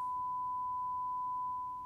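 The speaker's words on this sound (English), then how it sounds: "or a sine wave generator" An analyzer app's generator produces a sine wave, a single pure, steady tone that holds at an even level and then fades slightly at the end.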